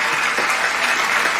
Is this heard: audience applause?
yes